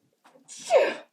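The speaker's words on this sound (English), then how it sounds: "I have to sneeze." A single sneeze after a short breathy build-up, close and loud, ending abruptly.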